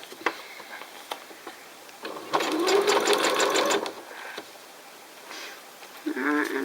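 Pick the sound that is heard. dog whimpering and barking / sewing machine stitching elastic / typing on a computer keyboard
sewing machine stitching elastic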